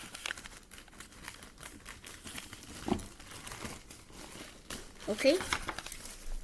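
Origami paper being creased along valley folds for a tessellation, soft crinkling and rustling handled close up, with a person talking quietly throughout.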